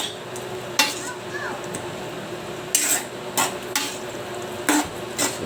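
Spoon stirring creamy pork and mushroom in a pan, scattered metallic scrapes and clinks against the pan over a soft simmer, a few close knocks spread through the stretch.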